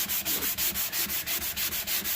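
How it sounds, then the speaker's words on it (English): Sandpaper rubbed by hand along the grain of stained wood in quick, even back-and-forth strokes, about eight per second-long stretch, close and steady with no talking. "You sand with the grain until it comes out."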